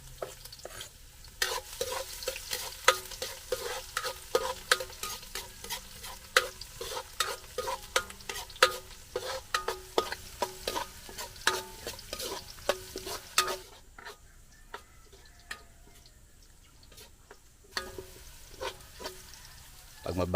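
Garlic frying in a pan during outdoor farm cooking, stirred steadily with a spatula that clatters and scrapes over a continuous sizzle, then a brief quieter spell before the stirring picks up again.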